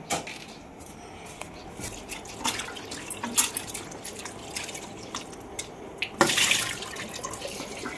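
Vegetables are rinsed and pressed under a running kitchen tap, with a steady patter of water and drips and a louder gush of flow near the end, no voices.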